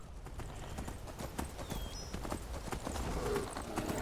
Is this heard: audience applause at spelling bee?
no